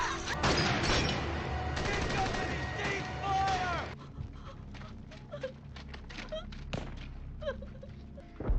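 Rapid bursts of gunfire from a World War II battle on Okinawa crackle loudly for about four seconds under shouting voices, then thin into scattered sharp shots and distant thuds.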